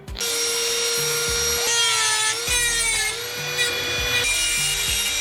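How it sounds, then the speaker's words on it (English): A Dremel rotary tool cuts into a metal side step during a garage repair, a loud, steady high-pitched whine with grinding and rasping that shifts in pitch as the bit bites, heard up close and alone. "I'm just gonna use the Dremel."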